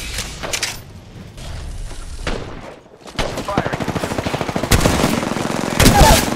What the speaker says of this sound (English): I'm taking shots. Shots fired.